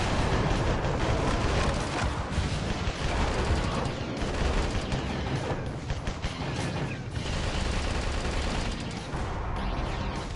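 Nonstop weapon fire from the video game Metal Wolf Chaos XD, a dense, loud barrage of shots and blasts rolling on for ten seconds without any pause, with no voices over it.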